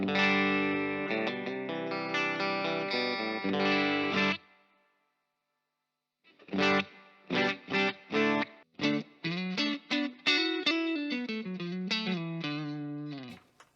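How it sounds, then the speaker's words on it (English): Distorted electric guitar chords ring through a Laney Lionheart LT5H amp with a spacious hall reverb, a held passage, a brief pause, then rhythmic strummed stabs. "I think that's a nice sort of hall reverb going on there."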